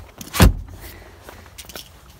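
A folded rear seat in a Seat Ateca is lifted back upright, giving one firm thud followed by faint rustling and clicks close by.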